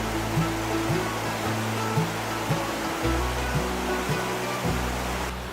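Bridalveil Fall in Yosemite in May, at high spring flow, roars as a steady broadband rush of falling water, continuous and fairly loud, with a low hum and a few faint knocks underneath.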